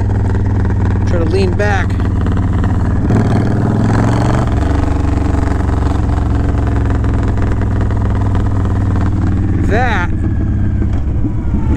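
A Honda Fury motorcycle with Cobra Speedster pipes rumbles loudly and steadily while riding, with deceleration pops, and someone talks over the engine noise throughout.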